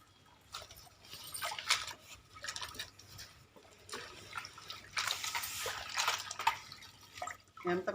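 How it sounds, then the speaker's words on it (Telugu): Freshly harvested, mud-caked mango ginger is washed by hand in water, with faint intermittent splashing and trickling in irregular bursts, quiet and close. "ఇప్పుడు కడిగి చూపిస్తాను నేను."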